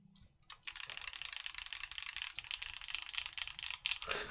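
A Loki 65 mechanical keyboard with shiny keycaps is typed on quickly, giving a dense run of crisp, close clacks for about four seconds after a brief quiet start.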